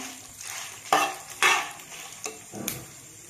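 Dried red chillies and curry leaves roast in a pan for idli karam powder, with dry rustling and several sharp scraping stirs of a spatula against the metal, fairly close, no talking.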